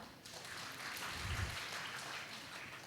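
An audience applauds at a school felicitation ceremony, a faint, steady wash of clapping from a crowd heard at a distance through the short clip.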